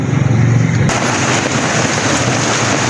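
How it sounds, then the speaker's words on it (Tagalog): Rain pours steadily outdoors with a loud, constant broadband hiss, and a low rumble like thunder fills the first second before the wash of rain continues alone. "umuulan na mga lodi ko"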